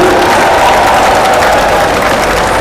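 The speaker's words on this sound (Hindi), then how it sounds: "एक बार मैं तालियां चाहूंगा आपकी तरफ से भी।" A crowd at an INDIA alliance political rally claps in loud, continuous applause that fills the whole short stretch, with faint cheering mixed in.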